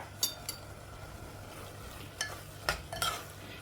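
Shallots and garlic frying in oil for tempering a green papaya stir-fry, with a steady low sizzle broken by a few sharp stirring scrapes and clinks of a utensil against the pan.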